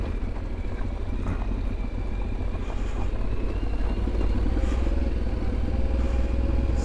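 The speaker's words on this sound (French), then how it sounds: "Je reste en première. Ça augmente un peu mon frein moteur." Yamaha Ténéré 700 motorcycle descending a mountain road in first gear, its engine braking as a steady low rumble close to the microphone throughout, with no voices.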